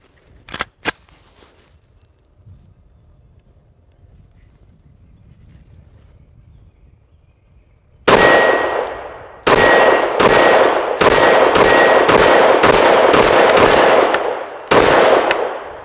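Glock pistol fired from a CAA Micro Roni Gen 4 brace conversion on an outdoor range: two quick faint pops, a quiet windy pause, then a loud run of about seven sharp reports in irregular succession.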